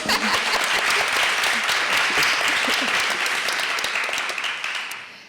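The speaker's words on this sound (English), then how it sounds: "Okay, you can clap." Sustained audience applause at an academic lecture event, dense steady clapping filling the room before tapering off toward the end, with no voices over it.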